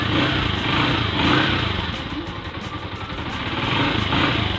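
A motorcycle engine, just cleaned at the carburetor and sealed with liquid gasket after a stalling fault, revs steadily and loudly, holding a continuous rough running tone with a slight rise and dip, no talk over it.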